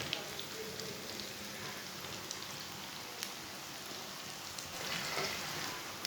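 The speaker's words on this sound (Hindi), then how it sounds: "ऑयल को मैंने गर्म कर लिया है। अब ये बैंगन डाल लेंगे।" Eggplant slices frying in hot oil give a steady, dense sizzle and crackle throughout, close up and moderately quiet, with no talking.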